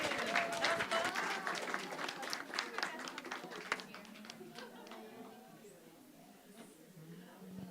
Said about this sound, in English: Round of applause again for our circle singers